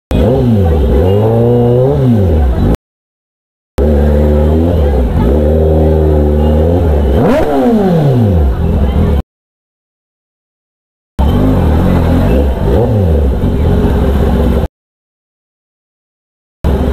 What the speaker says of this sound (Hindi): एक ही रेव काफ़ी है सबको हटाने के लिए